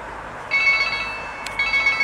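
A telephone rings in two bursts of bright electronic trilling, near and fairly loud, separated by a short pause, with no talk over it.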